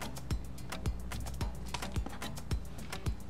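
Scissors cutting through quilt batting, a near and quiet series of evenly spaced snips, roughly two per second, with no talking.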